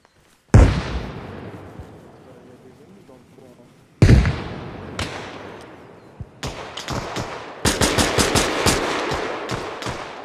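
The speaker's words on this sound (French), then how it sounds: "Grenade, grenade, grenade," Grenade blasts in the video game Arma Reforger, two loud booming explosions a few seconds apart, each with a long rumbling decay, followed by rapid bursts of close gunfire, with players talking over the action.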